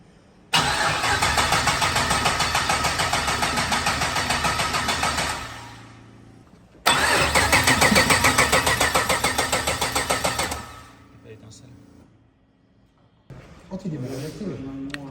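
An LS3 V8 engine cranks without firing in a workshop, two long steady starter-motor churns of about five and four seconds each, loud and close, then a voice speaking briefly after they stop.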